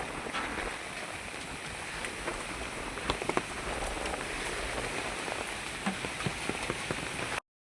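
Steady rain patters on a surface nearby, a dense continuous hiss dotted with occasional louder drops, then it cuts off abruptly.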